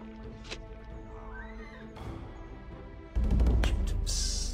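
Horses neigh and whinny during a battle in the strategy game Numantia, with a couple of clear whinnies over steady game ambience, then a loud burst of clashing combat and hoof noise toward the end.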